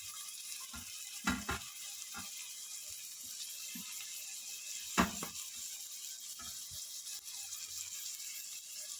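Chopped onions, capsicum and white parts of spring onion frying for gobi manchurian make a faint, constant sizzle, broken by a few soft clicks and scrapes of stirring, with no talking.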